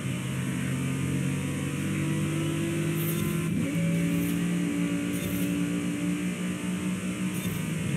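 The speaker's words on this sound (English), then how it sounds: "I love the sound of that AMG right behind me" A Mercedes-AMG car's engine roars from behind in Forza Horizon 5, a steady loud drone with rising and falling revving tones that shift pitch midway, heard alone without talk.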